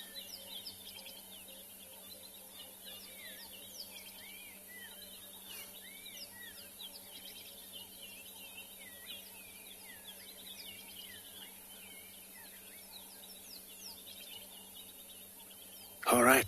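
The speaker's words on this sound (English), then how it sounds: "just listen to bird sounds" Birds sing at sunrise on a safari reserve, many chirps and whistling calls overlapping at a distance over a quiet low hum, ending with a brief loud close noise.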